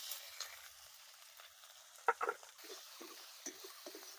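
Faint, quiet sizzling of shrimp and taro greens in a pan in a village kitchen, with a few soft clinks and stirring scrapes scattered through, no talking.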